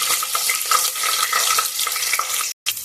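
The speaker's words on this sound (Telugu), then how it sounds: "ఆయిల్ కొద్దిగా హీట్ అయిన తర్వాత బిర్యానీ స్పైసెస్ వేసుకోవాలి. దాంట్లోనే పచ్చిమిర్చి వేసుకోవాలి." Biryani spices and green chillies frying in hot oil, a steady loud sizzle and crackle with faint stirring clinks, broken by a brief cut to silence near the end.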